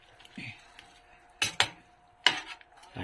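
Spoon stirring vegetables and shrimp with coconut milk in a metal pot, a few sharp close scrapes and clinks against the pot, spaced out with quiet gaps between them.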